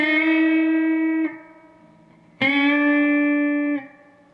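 Electric guitar playing part 1 of the verse at slow tempo: two long, effected notes, each picked, held and released, with a brief quiet gap between them. The tone is clear and close, with a bright attack.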